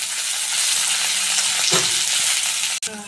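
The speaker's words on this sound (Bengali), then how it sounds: "তেলটা গরম হয়ে গেছে আমি পেঁয়াজটা দিয়ে দিলাম আমি এরপর এই কুচানো কপিটা দিয়ে দিলাম" Onion and chopped cabbage fry in hot oil with a loud, close, steady sizzle, broken near the end by a brief sharp knock and a quick stir.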